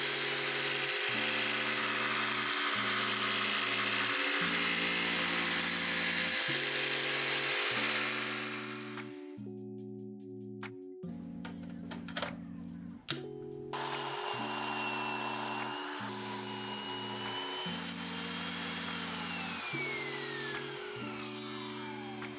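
A Makita JV002GZ cordless jigsaw cuts wood in a loud, steady, rhythmic buzzing stroke that starts and stops in bursts, with brief clatter and handling noise during a pause midway.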